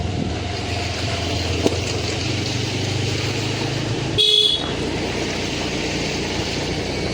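A short car horn honk sounds once over a steady engine drone, brief and fairly close.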